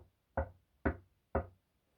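Three evenly spaced knocks on a door, sharp and fairly quiet, each a single hollow rap with silence between them.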